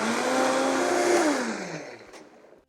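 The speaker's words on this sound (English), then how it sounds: "Blend it one more time." A blender whirs through vegan mayonnaise at high speed, a loud steady motor drone whose pitch sags as it spins down and fades out near the end.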